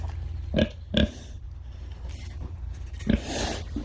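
Pigs grunt and snort close by, a few short bursts over a low rumbling background.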